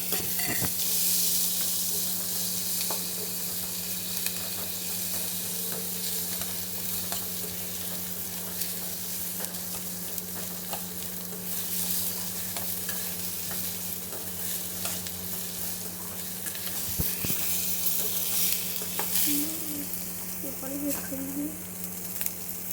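A large sliced onion frying in hot oil, giving a steady close sizzle with occasional stirring scrapes, while a voice speaks briefly over the cooking.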